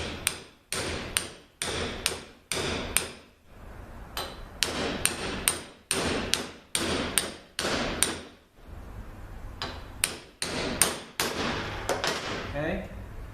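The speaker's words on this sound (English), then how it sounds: "I got this little driver here. I'm going to try to hit it in very gently" A small driver hammers a bushing gently into an automatic transmission drum, producing a long series of sharp, close metallic taps in irregular bursts with short pauses between groups.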